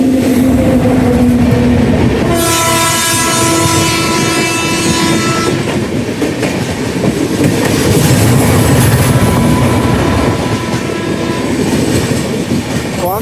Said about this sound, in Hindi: अभी एक और ट्रेन से हमारी क्रॉसिंग हो रही है